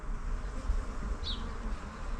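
A honeybee swarm clustered on a fence buzzes with a steady, soft low drone, close by and continuous, with one brief higher buzz of a passing bee.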